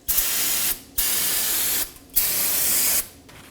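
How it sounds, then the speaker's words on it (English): Three long hissing bursts of brake parts cleaner aerosol spray, each about a second, separated by short pauses, loud and close, during front wheel bearing replacement on a Nissan Maxima. "I'm going to spray the area with some brake parts cleaner"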